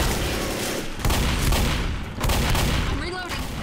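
Dense gunfire in the video game Left 4 Dead, with loud bursts of shots in rapid succession broken by short pauses, close and overlapping.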